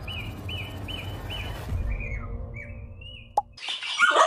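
Caged pet birds set out in the morning sun chirp in a series of short repeated whistled notes, then a few longer swooping calls, over a low outdoor rumble with a brief clatter near the end.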